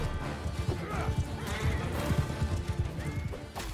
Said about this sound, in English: I'm going to tell my cavalry and my horse archers to charge in now as well